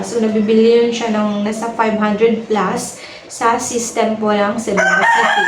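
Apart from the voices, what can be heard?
rooster crowing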